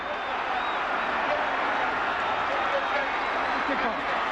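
Dense football stadium crowd roaring at a West Virginia Mountaineers versus Virginia Tech Hokies night game, a steady, loud wash of cheering and noise with no pauses.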